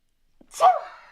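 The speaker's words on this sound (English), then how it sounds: "Hold on a second. I'm going to sneeze." A single sharp sneeze, close and fairly loud, preceded by a brief intake of breath and trailing off quickly.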